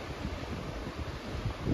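Steady wind by the shore of Lake Winnipeg on a recumbent bikepacking trip, a continuous broad roar buffeting the microphone, loud and unbroken from start to end.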